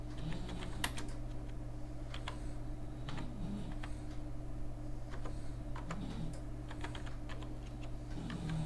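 Continuous fast typing on a computer keyboard while searching for a baby colorful wooden alphabet product; close, steady key clatter with a constant low hum underneath and no talking.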